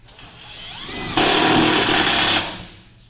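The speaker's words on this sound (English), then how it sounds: "fix it with self-tapping right here" Power driver spinning a self-tapping screw into a van safety partition in a Nissan NV low roof, a loud close whine that ramps up, bites hard for about a second and then stops.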